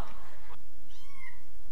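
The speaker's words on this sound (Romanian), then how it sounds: "Oh, ce drăguț, săracul pisic." A cat gives a short, clear meow, close by, over a low steady background, alone with no talk.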